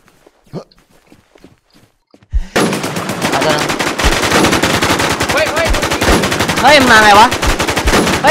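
Sustained rapid automatic gunfire in the video game Infestation starts abruptly after a few quiet footsteps and keeps going at close range, loud and continuous, with faint voices underneath.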